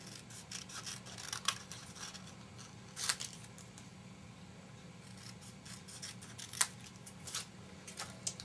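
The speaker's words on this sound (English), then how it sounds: "take your scissors and just cut it out" Quiet snipping of scissors through paper, a handful of soft crisp cuts spaced irregularly over a faint background hum.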